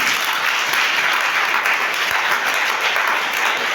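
A church congregation claps and applauds for Jesus in a loud, steady, full-room wash of applause with no breaks, close and enveloping, with faint voices mixed in.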